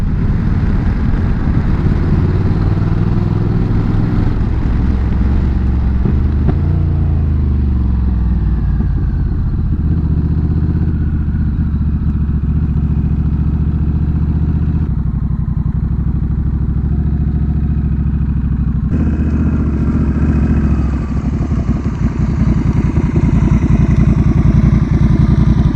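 Honda Rebel 1100 motorcycle engine running steadily while the bike is parked, a loud, close, continuous low rumble with a slight change in tone partway through and no talk over it.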